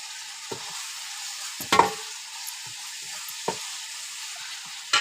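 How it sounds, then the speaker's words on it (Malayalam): Masala being stirred and roasted in a pan, with a steady soft sizzle and a few distinct scraping stirs, close and without talk. "മസാല ഒക്കെ റോസ്റ്റായി നല്ല മിക്സായി കിടക്കുന്ന മസാല."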